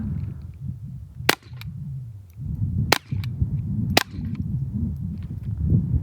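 Three sharp, quiet cracks spaced a second or two apart from a suppressed .22 LR Ruger 22/45 pistol with a Volquartsen upper and Dead Air silencer, fired at bulletproof glass, over low room noise.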